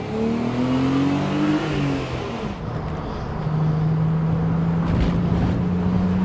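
Inline six-cylinder of a BMW Z3 2.8 roadster pulls hard in first gear, its engine note rising in pitch, dropping at a shift, then climbing again under a constant roar of road and wind noise heard from inside the car.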